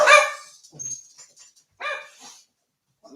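Dogs bark in a few separate bursts, fairly close and loud, with quieter yips and whimper-like sounds between the barks and no talking over them.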